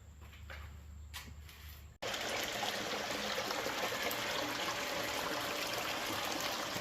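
Water rushes steadily while a 15-gallon bucket of low-grade gold ore is processed, a soft trickle giving way to a louder, constant wash of flowing water with no talk.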